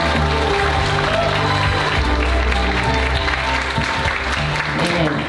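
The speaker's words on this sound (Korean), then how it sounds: "대표님을 무대 위로 모시겠습니다. 큰 박수 부탁드립니다." Audience applause at a Korean youth foundation's fourth-anniversary vision ceremony, loud dense clapping throughout that greets a speaker called to the stage, with music or voices mixed underneath.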